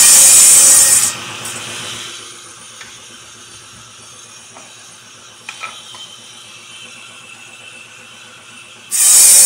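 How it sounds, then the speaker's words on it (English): Wooden cleats are cut in half with a saw, starting with loud, dense rasping strokes that drop to quieter scraping and small knocks, then end in another burst of loud sawing. "Now I'll cut these in half, and that'll give me the proper size cleat."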